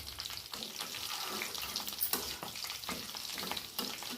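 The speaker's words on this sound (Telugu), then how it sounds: "కరివేపాకు చిటపట అంటుంటే" Curry leaves crackle and pop in hot oil for tempering, a lively sizzle with sharp little bursts scattered through it, close by and without speech.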